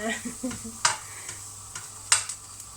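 Galangal, shallots and chillies are stir-fried in a pan for a salted-fish chili paste, with a soft sizzle and a few sharp scraping clicks of a spatula at uneven intervals.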